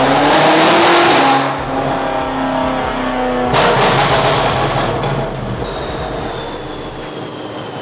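A car engine revs hard indoors during a silicone-versus-metal intake test with a fan running. It opens with a loud, dense roar, then a second burst rises midway before settling into a sustained, slightly uneven drone.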